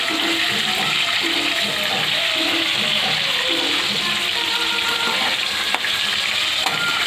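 Fish fried golden in a pan on the stove, a loud steady hissing sizzle running unbroken for the whole stretch with faint bubbling and an occasional light tap, close by with no talk.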